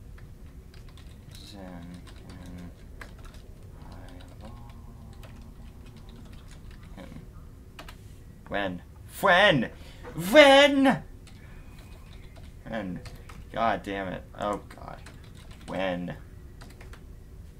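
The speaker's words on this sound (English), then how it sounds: "I hate typing." Keys tapped on a computer keyboard during a Star Trek Online game session, faint steady clicking close by, with louder bursts of someone talking and exclaiming over it.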